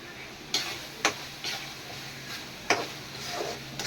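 Pirandai pickle stirred and sautéed in hot oil in a pan, with a steady low sizzle and several sharp scraping clacks of the spoon against the vessel, close and alone with no voices.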